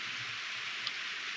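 Steady rain falls in the farming video game Harvest Moon: Back to Nature, a soft, even hiss that holds constant throughout with no voices.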